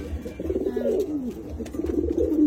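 Homer pigeons cooing inside a cage, a close, steady stream of soft throaty coos and rolling calls with no voices over them.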